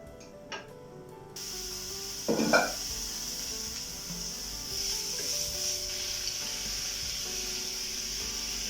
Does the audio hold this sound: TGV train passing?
no